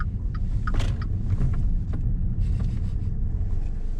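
A 2015 Dodge Dart rolls into a gas station with a steady low engine and road rumble from inside the cabin, plus a few faint clicks and light rustles.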